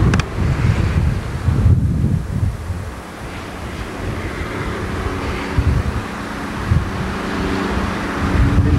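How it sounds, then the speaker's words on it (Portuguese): Strong gusty wind blows outdoors along a city avenue, roaring and buffeting the microphone loudly and continuously with no talk. "Muito vento mesmo."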